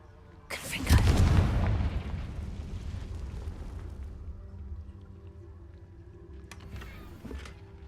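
A single heavy boom from a Confringo spell in a video game bursts out near and loud, then rumbles and decays for several seconds, with a faint later crackle.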